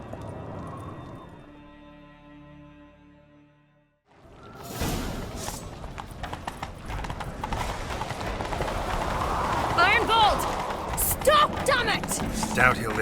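Rapid hoofbeats of a horse at a gallop in The Witcher 3: Wild Hunt, clopping steadily over rustling, busy game sounds, with brief whooshing noises near the end.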